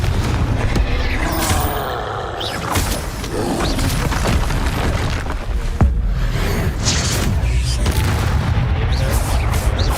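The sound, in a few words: Confringo explosion spell in video game Hogwarts Legacy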